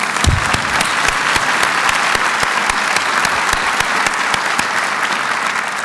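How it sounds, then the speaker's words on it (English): Audience applause fills a university State of the University address, a dense, steady wash of many hands clapping that stays loud and close throughout with no speech over it. "Now that deserves a round of applause."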